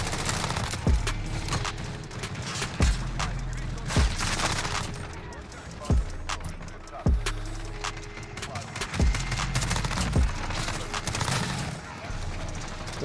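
Rapid automatic gunfire from several weapons in Modern Warfare as players shoot down an airborne target, with sharp recurring bursts and booms over a steady roar of fire while a voice talks.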